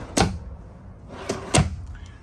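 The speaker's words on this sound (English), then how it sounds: "Pocket door." A pocket door in a 2014 Tiffin Allegro motorhome slides along its track and knocks shut, giving a few soft thuds at close range with a brief rolling sound between them.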